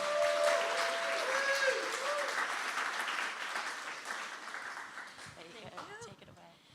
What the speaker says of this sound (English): really appreciate you giving her a great round of applause